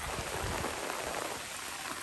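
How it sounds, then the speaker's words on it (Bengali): Heavy rain pours steadily on an open wetland fishing spot, a dense continuous hiss of drops with a few heavier splashes, close and loud throughout with no voices. "প্রচুর বৃষ্টি হচ্ছে"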